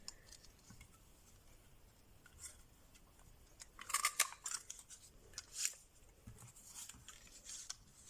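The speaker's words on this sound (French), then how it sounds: "maintenant, je vais pouvoir venir couper mon étiquette" Scissors snipping through a paper label on a card-making desk, a few quiet crisp cuts clustered in the middle, with light handling taps around them and no voice.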